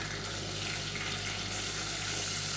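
Chopped onion hits hot oil in a home cooking pan and settles into a steady, even sizzle that brightens slightly partway through, with no talking.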